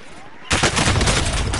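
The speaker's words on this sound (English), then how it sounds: "He's shooting me in my butt!" Video game gunfire erupts loudly after a half-second lull, a dense, sustained burst of rapid shots and blasts during a chaotic online match with air strikes.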